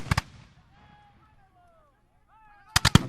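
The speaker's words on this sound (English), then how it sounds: "all the sounds of the cannons and the guns and the screaming and the fighting" Cannon fire and gunfire in a battle, with loud sharp bursts in a quick cluster at the start and another cluster at the end, and quieter tonal sounds between them.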